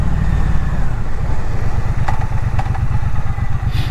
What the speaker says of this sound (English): It's got a lovely sound out of those standard pipes.